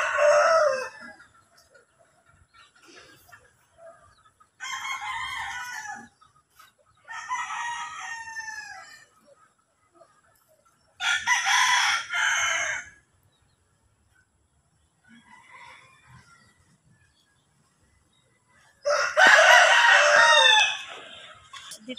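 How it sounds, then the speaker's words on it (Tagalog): Chickens on a wooded farm during feeding crow and cluck in several loud, close bursts, separated by quieter stretches of scattered soft clucks and near silence. "Sinamahan ko lang si ate magpakain ng manok. Daming manok po dito"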